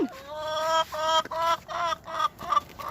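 A rooster at a farm clucks in a run of loud, close, nasal calls, four or five short bursts with brief gaps, and no voices over them.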